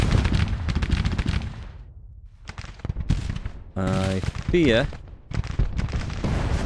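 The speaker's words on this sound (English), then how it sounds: "we may be getting absolutely pounded by enemy cannons here." Enemy cannon fire booms through a Grand Tactician: The Civil War battle, loud repeated bursts and rumbling volleys, with a voice speaking over the barrage and some tonal game effects mixed in.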